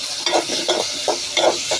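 Green chilies, chili powder, turmeric and salt being stirred and fried in a pan, with soft rhythmic scraping strokes about every third of a second over a steady sizzle.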